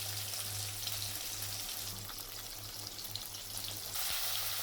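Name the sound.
katla fish frying in oil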